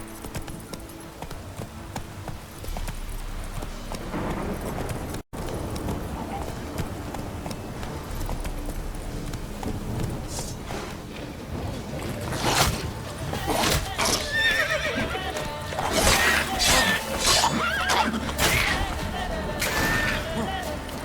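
Roach, a horse in The Witcher 3, gallops with rapid clip-clop hoofbeats and lets out loud neighs and whinnies over game music and ambient sound, with occasional speech.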